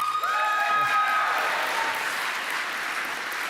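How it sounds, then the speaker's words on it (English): An awards-show audience applauds the nominees for horror game of the year, a steady wash of clapping that swells then slowly thins, with a faint tone ringing over it. "An applause for everyone, please."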